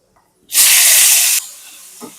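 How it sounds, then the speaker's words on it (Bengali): Bay leaves, crushed garam masala and chopped onions hit hot oil with a sudden loud sizzle that hisses strongly for about a second, then settles into a quieter steady frying. "এবার এই গরম তেলের মধ্যে দিয়ে দিচ্ছি দুটো তেজপাতা আর থেতো করা গরম মশলা, কুচনো পেঁয়াজগুলো"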